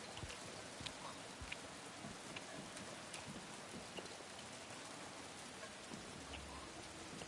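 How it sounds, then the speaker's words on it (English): Steady rain falls all around, a constant dense patter of drops on surfaces with sharper individual taps standing out now and then, heard alone without voices. "And it's raining."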